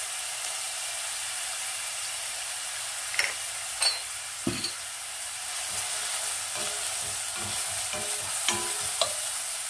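Onions sizzle in a pan over lowered heat, a steady soft frying hiss with occasional scrapes and clicks of stirring, fairly quiet and without talk.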